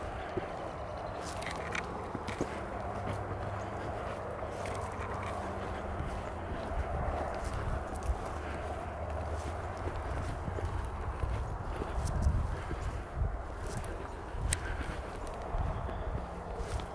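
A wild stallion's hooves clop in a steady walking rhythm close behind, following along outdoors over a constant wash of open-air background noise, with no talking.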